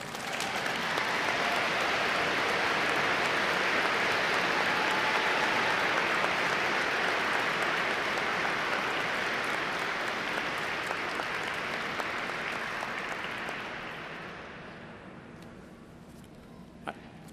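Graduates stand and applaud their faculty at a law school commencement ceremony, a broad sustained wash of clapping from a large crowd in a big hall that holds steady for about thirteen seconds, then thins and fades out.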